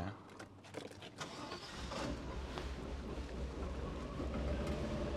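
A Mercedes 500E cranks and then catches, with a rough engine rumble that rises and settles into a steady idle, heard close up.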